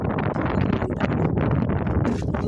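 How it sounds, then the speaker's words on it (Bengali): Strong desert wind buffets a phone microphone in Kuwait, producing loud, continuous rumbling gusts and rustling throughout without a pause. "বাতাসে ফোন শব্দ হয়, প্রচুর পরিমাণে বাতাস দেখেন"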